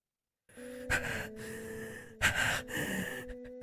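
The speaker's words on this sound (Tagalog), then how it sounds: "Bumigat ang paghinga" Heavy breathing in a Filipino horror tale: two strong gasping inhalations, each followed by a long, drawn-out breath, set over a steady eerie tonal drone with no speech.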